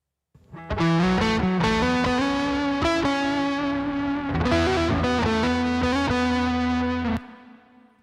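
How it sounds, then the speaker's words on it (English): A distorted electric guitar line, processed with console emulation, compression and medium plate reverb, sustains with a reverb wash, loud and even, then cuts off and rings out briefly. "you turn on the console emulation, you turn on the compression and the reverb sends, you get this."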